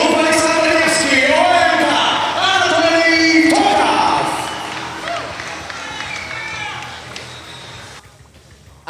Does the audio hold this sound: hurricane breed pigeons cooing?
no